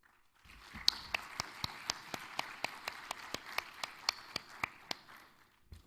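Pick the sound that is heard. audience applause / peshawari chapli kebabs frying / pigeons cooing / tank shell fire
audience applause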